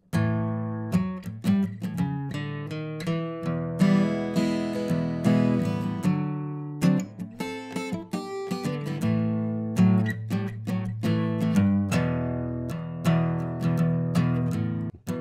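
An acoustic guitar plays a bluesy turnaround riff, with single-note runs and ringing chords at a relaxed, loose pace and no talking.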